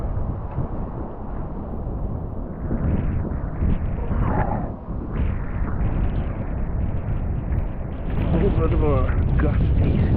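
Gusty wind on a hiking trail between Amicalola Falls and Stover Creek Shelter, a loud continuous buffeting roar against the microphone that swells and surges throughout.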